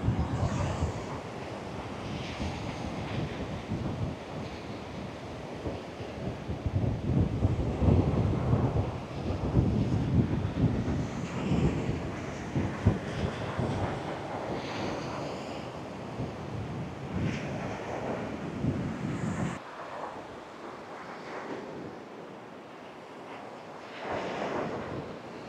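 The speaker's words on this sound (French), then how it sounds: "Le vent commence à se lever" Steady wind blowing on a tropical motu beach in Polynesia, a continuous roar with rumbling gusts and surf-like wash, strongest in the middle, then easing slightly near the end.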